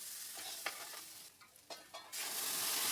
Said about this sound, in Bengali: দিয়ে ভালো করে নেড়ে চেড়ে নেব।